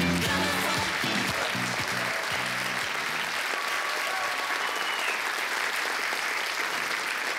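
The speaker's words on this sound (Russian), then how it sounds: "штурман Сергей Талалаев, громкие, громогласные аплодисменты, особенно сегодня" An awards ceremony crowd at the Golden Gramophone music event gives loud, steady applause: a thick wash of clapping that goes on unbroken for several seconds, with a brief tonal voice or music at the start.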